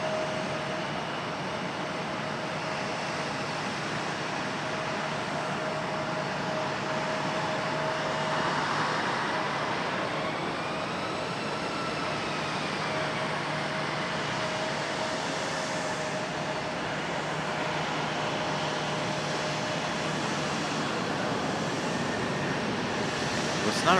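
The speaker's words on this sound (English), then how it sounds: "And you guys just saw the Southwest departure." A Southwest airliner departing Raleigh-Durham airport, a steady distant jet roar with a faint rising whine, heard at moderate level for a long stretch with no clear voices.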